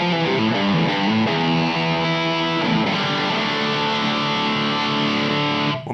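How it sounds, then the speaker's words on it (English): A distorted electric guitar is played through a tape delay with feedback, so each sustained chord smears into repeating echoes that hang and build. The tone is loud and steady, and no one speaks. "What about the tape delay?"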